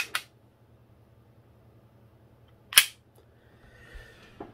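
A sharp shot from a CO2-powered WE DP17 airsoft pistol cracks out once, loud and close, with a faint click at the start and a softer rattle after in a quiet room.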